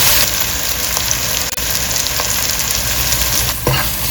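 Tomatoes, onions and chillies cooking in a pan for a veg dum biryani give a loud, steady sizzle close by, with a brief clink near the end and no talk.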